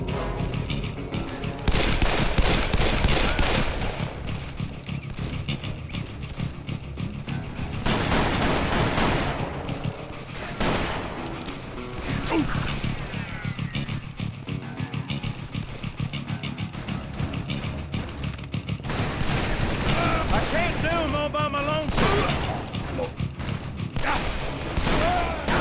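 Gunfire rages in the Western shooter game Call of Juarez: Bound in Blood during a stagecoach escape. Loud, rapid shots and dense volleys repeat almost continuously for about 26 seconds, with only brief lulls between bursts.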